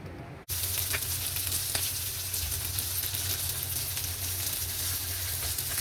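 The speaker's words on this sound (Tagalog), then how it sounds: "Prito ni galunggong." Galunggong fish frying in a little oil gives a loud, constant close-up sizzle and hiss with faint pops, running unbroken after a brief quiet start.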